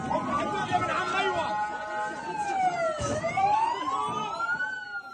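An ambulance siren in Gaza City wails steadily, its pitch sweeping down and back up, loud and close above constant crowd chatter and street noise.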